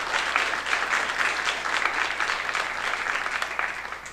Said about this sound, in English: I think he deserves a special round of applause